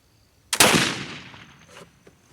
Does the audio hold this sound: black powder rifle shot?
yes